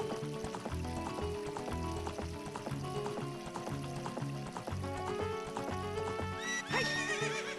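A horse in The Legend of Zelda: Ocarina of Time neighs amid busy game sounds and music, and a loud whinny stands out near the end.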